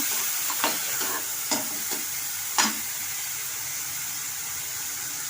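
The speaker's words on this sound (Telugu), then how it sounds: "ఇప్పుడు ఆడి పెట్టుకున్న ఉల్లిపాయ పేస్ట్ వేసానండి దీన్ని కూడా కొంచెం వేయించుకుందాం" Onion paste frying in oil for a dried fish and garlic curry, a steady hiss of sizzling broken by several short scrapes of a spoon stirring the pan, close and alone without talk.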